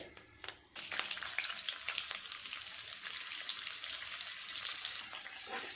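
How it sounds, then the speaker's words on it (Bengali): Onions and a bay leaf hit hot oil in a pan with a sudden loud sizzle, after a few brief clinks, then fry in a dense, steady crackling hiss that continues to the end; no voices. "খুব ভালো করে পেঁয়াজটাকে ভাজা ভাজা করে নেব"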